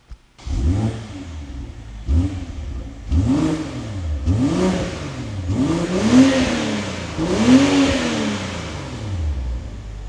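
BMW M340i with a new exhaust system, started and revved repeatedly: about five loud, close rising-and-falling revs climbing higher each time over a steady idle, with no talk.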